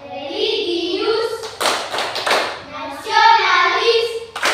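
A school class claps in a rhythmic patterned chant with short bursts of sharp hand claps, alternating with children's and a teacher's voices chanting between the claps.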